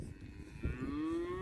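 A cow that escaped at a workplace lets out one close, loud moo, a low rising drawn-out call lasting about a second, heard alone without talking.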